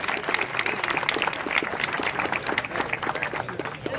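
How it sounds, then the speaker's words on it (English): An indoor crowd gives a round of applause for a speaker, with dense clapping that holds steady and close for a few seconds. "Could we give her a round of applause?"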